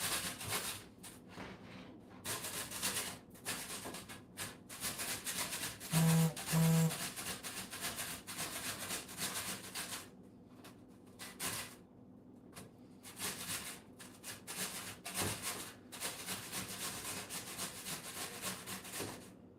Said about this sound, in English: I'm just going to take it along a box grater.